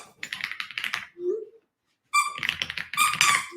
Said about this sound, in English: chew her loudest squeaky toy